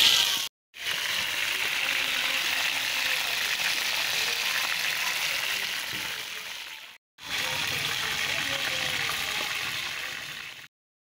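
Chicken wings fry in a frying pan with a steady crackling sizzle, fairly loud and continuous, split by two brief silent gaps.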